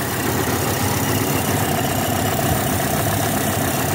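A 1978 Toyota Hilux engine idles steadily and smoothly, a continuous close, even mechanical hum with no voices over it.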